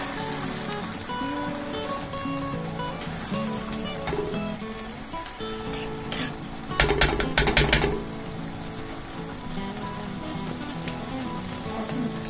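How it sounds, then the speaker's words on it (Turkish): Rice with corn simmers in a pot as it is stirred a little, a soft bubbling hiss broken by a short burst of scraping stir strokes partway through. "Bu aşamada mısırlarımızı ekliyoruz. Ve çok değil, biraz karıştırıyoruz."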